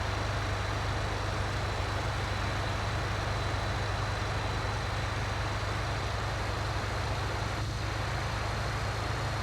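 A farm vehicle in Farming Simulator 19 drives along with a steady, low engine drone that holds an even level throughout, with no talking.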